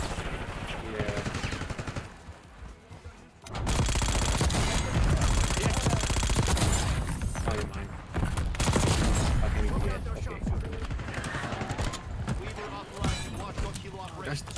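Rapid automatic gunfire from a SAUG submachine gun in Black Ops 6, loud sustained bursts with dense crackle filling most of the stretch, over game sounds while a player talks throughout.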